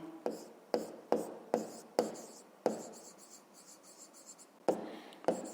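A pen writes on paper during a fifth-grade maths exercise: a series of sharp, close taps and scratchy strokes in an irregular rhythm, with a short scribbling stretch in the middle.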